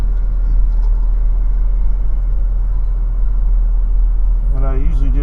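A truck idles with a deep steady rumble while backing up to a camper, low engine drone continuing throughout with a voice speaking near the end.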